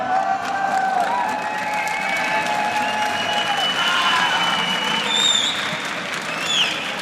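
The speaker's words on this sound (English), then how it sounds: "an applause from the crowd" Steady applause and cheering from a live esports crowd in a stage arena at a League of Legends EU LCS third-place match, sustained at an even level with a few whistles rising above the clapping.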